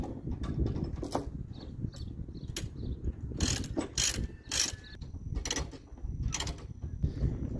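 A ratchet chain binder cranks tight on a chain holding a machine under 10,000 lbs to a trailer, giving close, steady ratcheting clicks and metallic clanks across the whole stretch, with no talking.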